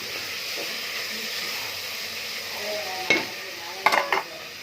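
Tomato, onion, curry leaves and green chilli crackling as they temper in hot coconut oil, a steady broad sizzle with a few sharper metallic scrapes of stirring near the end.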